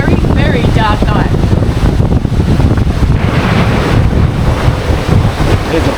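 A sailing boat rides 28 knots of wind and a 2.5 metre swell in rough seas, with loud wind buffeting the microphone and waves crashing and rushing around the hull while someone speaks briefly.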